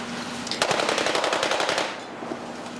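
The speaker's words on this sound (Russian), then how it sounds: "расстреливают колонну условного противника" Sustained bursts of machine gun fire from mountain troops ambushing a mock enemy column on a road in a gorge during a combat exercise, rapid rhythmic shots lasting over a second before fading, loud and close with no talk.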